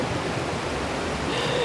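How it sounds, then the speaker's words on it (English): Water rushes over a rock in a small rapid in the Catlins, New Zealand, a close, steady broadband wash of flowing water without talk. "This is just a rock with some water flowing over it."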